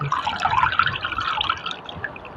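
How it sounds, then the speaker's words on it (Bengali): Pumpkin leaves are washed by hand in water, with close, irregular splashes and drips sloshing for a couple of seconds. "এবার শাকগুলো আমরা জলে দিয়ে ভালো করে ধুয়ে নিব।"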